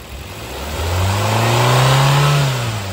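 A Maruti Nexa Ignis Sigma 2022 petrol/CNG car engine revs up steadily under the accelerator, its pitch climbing and holding high before easing back, loud and close with no talk.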